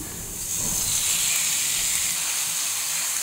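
Carrots and marinated chicken sauté in hot oil in a pan, giving a steady, loud hiss and sizzle that runs without a break.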